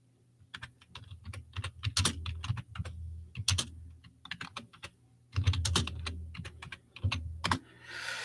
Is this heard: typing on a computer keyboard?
yes